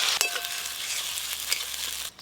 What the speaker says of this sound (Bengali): মালাইকারির জন্য গরম মশলা ফোড়নে দেব